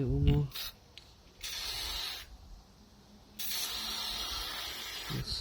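Cleaner sprays from an aerosol can onto the front brake parts of a Honda VFR 800 motorcycle in several close, hissing bursts of varying length, with a brief voice at the start.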